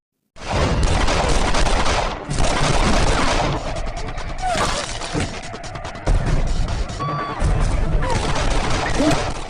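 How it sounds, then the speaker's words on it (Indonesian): Dense bursts of gunfire crackle almost nonstop in an Indian film shootout between police and gangsters, with rapid volleys, sharp cracks and impacts in a loud, chaotic exchange; voices are faintly mixed in. "langsung diberondong dengan tembakan oleh Maya Bai."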